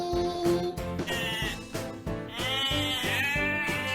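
A cartoon goat bleats in wavering, drawn-out calls over a bright, loud nursery rhyme backing track.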